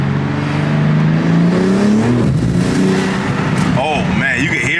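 A G82 BMW M4 engine revving hard during an acceleration pull, heard from inside the car as a loud, rising, continuous drone with gear-change dips and a sharp climb near the end, with people talking over it.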